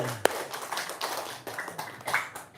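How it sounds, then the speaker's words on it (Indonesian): A few scattered hand claps from a small group, close by, with sharp taps at an uneven rhythm and one louder clap near the start. "Tepuk tangan dulu dong"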